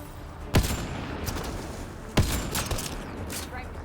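Enemy gunfire in the sci-fi shooter Mass Effect Andromeda: two sharp blasts stand out over a dense, continuous crackle of combat noise, loud and close throughout.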